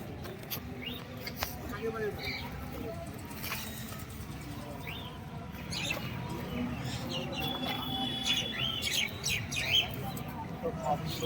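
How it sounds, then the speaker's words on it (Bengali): Pigeons at the Birnagar pigeon market, a weekly Friday market, give scattered chirps and coos over a dense crowd murmur, with people talking nearby throughout. "চলে এসেছি প্রতি শুক্রবারের মতন আজও কিন্তু বীরনগর পায়রা হাটে"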